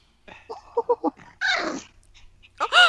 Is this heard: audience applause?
no